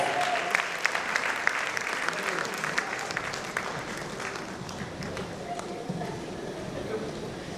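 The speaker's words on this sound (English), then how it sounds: "Please, with a big round of applause" An audience at an indoor event applauds steadily, sharp individual claps standing out within the crowd noise while voices talk over it.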